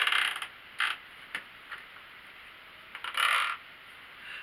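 Woven basket material squeaks sharply as it is pulled tight, in a few short bursts with faint creaks between them against a quiet room.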